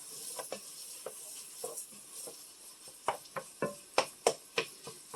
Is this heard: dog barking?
no